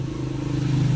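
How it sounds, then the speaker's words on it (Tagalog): A TMX 155 motorcycle engine runs rough and loud under load, with a steady low rumble and a faint rattling knock inside the engine, heard up close for about a second. "Pagka hinataw siya, lalo na sa ahonin, hinataw siya, nagnanaking, parang may tumitililing sa loob ng makina niya."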